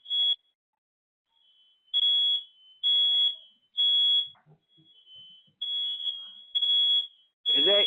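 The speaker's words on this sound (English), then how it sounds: "Is that you over there beeping?" A smoke alarm beeps in a room, sounding as repeated high, piercing chirps at roughly one-second intervals, with a voice speaking briefly between the beeps.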